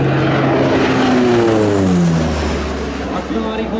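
Antonov An-26 or An-32 twin-turboprop transport at an air festival in Piešťany passes loudly and close, a steady propeller drone with a falling pitch sweep as it goes by.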